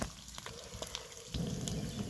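River fish frying in a pan outdoors, a steady soft sizzle with brief crackles, growing a little louder and denser toward the end.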